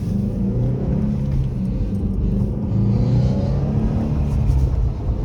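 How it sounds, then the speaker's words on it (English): A Subaru STI with a 2-liter EJ207 twin-scroll turbocharged engine revs steadily, heard from inside the car as a loud, continuous low rumble with slight rises in pitch and no talking. "So it really revs up quite nicely."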